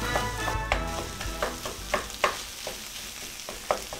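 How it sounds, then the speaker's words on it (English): A spatula chops and stirs rice and meat frying in a pan, with a steady close sizzle punctuated by irregular scraping taps against the pan. "all I've been doing last minute here is just kind of a chopping motion with my spatula just to get the rice mixed in"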